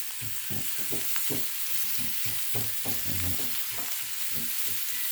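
Marinated pork, seasoned with salt, MSG and a little soy sauce, grills in oil on a marble slab, giving a loud, continuous close sizzle broken by repeated scraping and stirring strokes.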